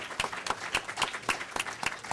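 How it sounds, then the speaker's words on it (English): Scattered applause at a community event for table facilitators, a small group clapping in a loose, fairly quiet rhythm with distinct individual claps standing out. "If we can take a moment to give them a round of applause."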